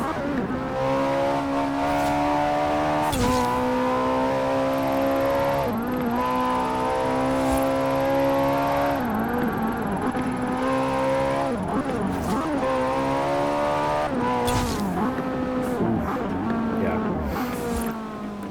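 A race car in Forza Horizon 4 with an Italian engine revs hard on a custom track, rising through gears and dropping as it downshifts repeatedly, loud and continuous with faint tire noise.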